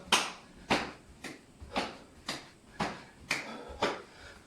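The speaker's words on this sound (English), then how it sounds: "So I want to clap and a slap." Rhythmic hand claps and slaps during a home exercise routine, seven crisp close hits spaced about every half second.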